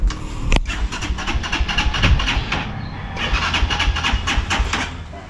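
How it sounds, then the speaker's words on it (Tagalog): A motorcycle engine being started and warmed up on a cold morning, running steadily and close by with a rough, continuous mid-range rumble and pulsing revs throughout. "pinapainit na ni Paring Kanoy yung kanyang motor"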